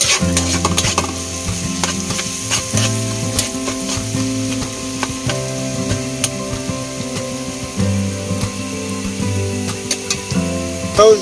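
Garlic sizzling in oil in a frying pan while being stirred, a steady loud crackling fry with scraping of the utensil against the pan throughout.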